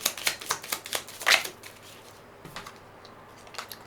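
Tarot cards are shuffled in quick riffling bursts and then drawn for a reading, crisp papery flicks up close at first, followed by softer, sparse card handling.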